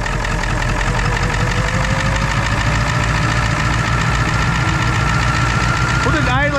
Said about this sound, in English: I mean, she runs real good at an idle.